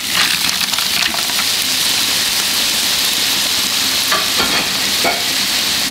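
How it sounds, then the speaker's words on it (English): Mussels hit a hot pan for seafood pasta, raising a loud, steady sizzle with crackling pops and a few clattering knocks as the shells settle and shift. "Now I'm adding my mussels."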